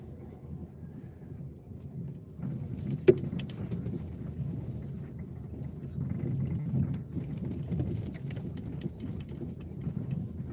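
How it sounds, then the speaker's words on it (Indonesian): Steady rain falls throughout, a continuous low, dense patter with a single sharp tap near the start, moderately loud and with no one talking. "Hujan sobat,"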